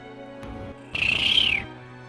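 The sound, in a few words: voice imitating fish noises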